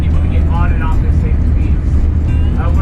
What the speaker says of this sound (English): So we're on the bus now, driving somewhere